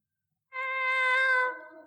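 A cat meows once in a long, drawn-out, tonal cry that fades slightly at the end, close and clear with no talking, set in an old British radio comedy.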